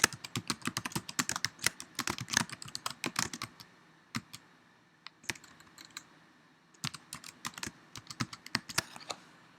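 Rapid clicking keystrokes on a computer keyboard come in close, fast bursts separated by short pauses, with no talking.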